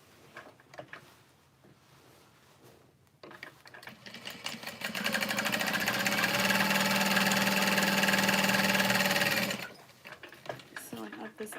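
A sewing machine runs steadily for about four seconds, a loud even mechanical whir, with quieter handling noises and faint movement before and after the stitching.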